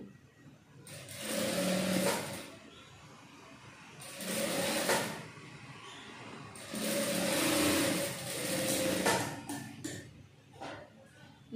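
A tailoring sewing machine stitching fabric whirs in three separate runs of a few seconds each, with brief pauses between them and a steady, moderately close hum.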